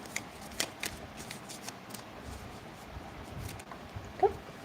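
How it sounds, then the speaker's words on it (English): Tarot cards are shuffled in quick riffling bursts up close, with a few soft taps and a brief squeak near the end. "Shuffle, shuffle, shuffle."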